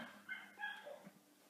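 An outdoor bird gives a short, raspy, fowl-like call, a few quick notes close by and moderately faint, with no talking.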